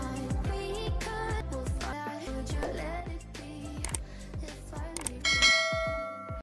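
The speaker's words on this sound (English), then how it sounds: "Turn on your notification bell so that whenever I upload any video," A notification bell sound effect rings in a bright, clear chime near the end, over a busy rhythmic musical backing that runs throughout.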